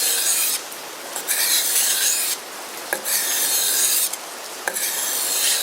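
A BK7 knife blade pushed along a sharpening stone in long, steady rasping strokes, each a few seconds long and separated by brief clicks as the blade resets, loud and close with no talking.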